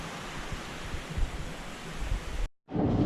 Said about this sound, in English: I stumbled upon this incredibly beautiful waterfall and garden.